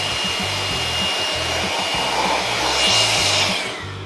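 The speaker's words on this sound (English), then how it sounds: "That's why I love the tool shop blower from RYOBI." A RYOBI 18V ONE+ workshop blower runs steadily at close range, a loud continuous rushing whine with a pulsing low hum and no talking.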